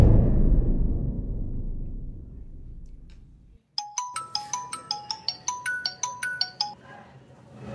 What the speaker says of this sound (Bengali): আমি এখনই ফোন করতেছি